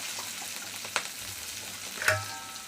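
Oil sizzles steadily with a soft frying hiss as chili and onion fry in a pan, broken by a couple of sharp crackles and stirring sounds, close by and with no talking.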